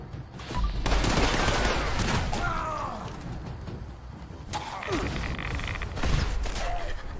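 Charged weapon shots firing in the Fallout 76 video game, loud bursts of gunfire with crashing impacts and mechanical whirs, repeating in heavy volleys across the scene.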